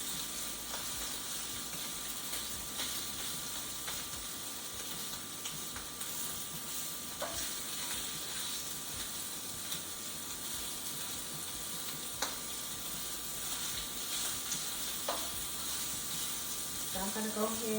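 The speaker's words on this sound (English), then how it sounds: "I'm going to finish cooking the sausage" Sausage cooking in an electric skillet hisses in a continuous, moderate sizzle that stays even throughout, broken by a few faint clicks and a short clatter of utensils near the end.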